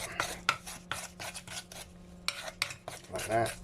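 Cake batter for an upside-down pear cake is stirred in a bowl with a utensil, giving repeated scraping and clinking strokes in an uneven rhythm, close up, with some pauses between bursts.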